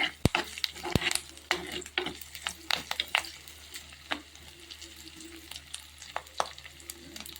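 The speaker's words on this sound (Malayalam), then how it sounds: "ഇതൊന്ന് അത്യാവശ്യം നല്ലോണം ഇളക്കി കൊടുക്കണം" Ingredients for a fish curry fry in a pan while being stirred, quiet sizzling under a string of sharp scrapes and clacks from the spoon at an irregular pace.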